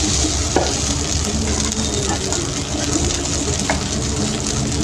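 Potatoes frying in a pan give a loud, steady sizzle close by, with a few faint clicks of stirring and no talking.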